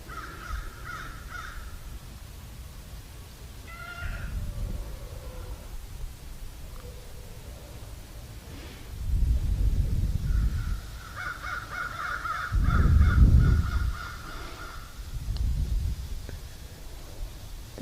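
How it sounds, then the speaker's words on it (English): Crows caw from overhead as they fly past one at a time, harsh calls repeating in several separate bursts against outdoor rustle and background noise, with no speech. "There's a sudden community of crows flying overhead, one at a time."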